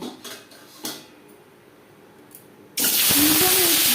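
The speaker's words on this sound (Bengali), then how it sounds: "সবার প্রথমে ডিম ভেজে নেব" Peeled, slit duck eggs frying in hot oil for a kalia curry, the pan suddenly bursting into a loud, steady sizzle after a few soft kitchen clatters.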